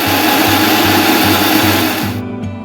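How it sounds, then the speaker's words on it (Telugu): A mixer grinder whirs loudly as it blends sesame seeds, coriander seeds, coconut powder and a little water into a paste, a steady motor roar that cuts off abruptly near the end. "ఇప్పుడు మనం ఒక మిక్సీ జార్ తీసుకొని దాంట్లో కొన్ని నువ్వులు, ధనియాలు, కొబ్బరి పొడి మరియు కొద్దిగా వాటర్ యాడ్ చేసుకొని మిక్సీ చేసుకోవాలి"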